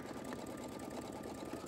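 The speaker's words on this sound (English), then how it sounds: "right here is it stitching the design of the basketball" A single-needle embroidery machine stitches a basketball design onto glitter canvas vinyl, giving a steady, fast, even mechanical whir that runs unbroken and fairly quiet throughout.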